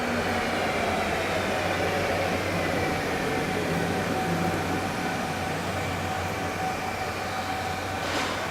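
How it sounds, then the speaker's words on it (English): A steady, loud rumble of the Cairngorm Mountain funicular railway car in Scotland approaching up its track, with a continuous mechanical drone and hiss that builds slightly toward the end. "This is the train coming up for us to board"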